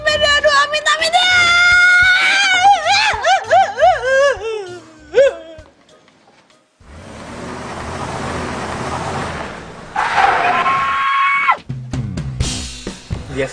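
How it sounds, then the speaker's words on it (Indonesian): A person screaming in an Indonesian TV drama scene, a loud wavering wailing cry that rises and falls, followed by a noisy rushing stretch and another raised vocal outburst, with talking mixed in. "Biasa aja kali, gak usah teriak-teriak."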